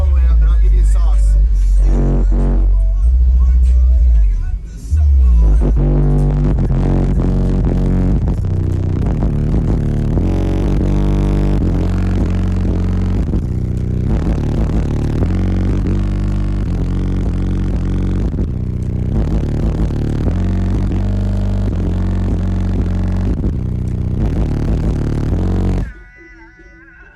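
A car audio system with nine 12-inch subwoofers pumps heavy, booming bass loudly through loud music for about 26 seconds, then cuts off abruptly.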